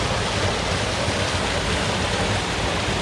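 A small waterfall on a creek below a hydro dam spills into a deep pool, giving a steady, broadband rush of falling water that holds even and close throughout with no voices.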